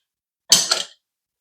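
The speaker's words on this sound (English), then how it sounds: "But the breaker bar works, so now I got it loose." A breaker bar cracks loose the clutch nut on a 2024 Harley-Davidson Road Glide, giving one short, loud metallic creak that lasts under half a second, close by, in an otherwise silent moment.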